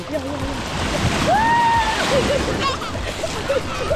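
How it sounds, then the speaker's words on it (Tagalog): Seawater splashes and sloshes close by under steady surf at an ocean beach, while voices talk and call out over the big waves throughout. "Yan, laki ng alon."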